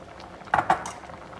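A spoon clinks twice against a cooking pot while dhal curry is stirred, two short metallic knocks in quick succession, close by, over a quiet background.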